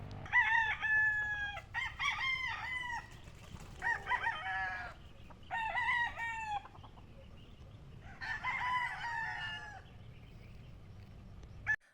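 Gamefarm hens cluck in repeated bursts while a rooster crows nearby, with quiet gaps between the calls.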